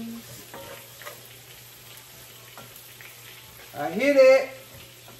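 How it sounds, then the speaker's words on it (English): Bacon seasoned and sautéing in a pan gives a steady low sizzle with occasional faint scrapes, and a short spoken phrase breaks in near the end. "So what I'm gonna do is add my seasoning to my bacon, y'all. I'm gonna saute that."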